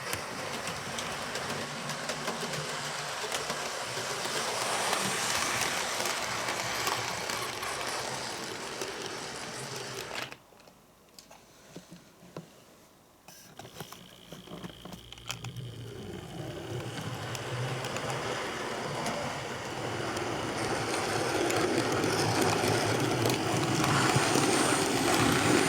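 A Hornby model locomotive runs in reverse over a level crossing on a model railway, a loud continuous whirring rumble with a brief quieter dip partway through before building again.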